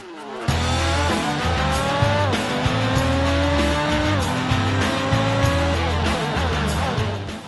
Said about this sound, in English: some Norwegians take their sports cars for some fun on an icy lake